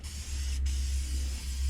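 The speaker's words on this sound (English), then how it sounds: "I like to spray kind of a little bit of brake cleaner" A can of brake cleaner sprays over metal bodywork on a 1955 Chevy gasser, giving a steady close hiss with a brief break partway through, over a low constant hum.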